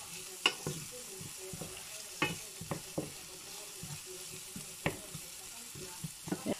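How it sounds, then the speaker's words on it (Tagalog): Onion and garlic sauté for chicken curry, a soft sizzle broken by repeated sharp scrapes and knocks of a utensil stirring in the pan, close and irregular, with no talking. "tapos ginisa natin sibuyas sa bawang"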